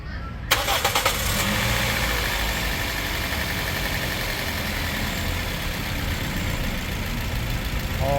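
A Toyota 2NZ-FE car engine cranks briefly and catches, then settles into a steady, loud close idle that runs on unbroken, with a faint voice in the background.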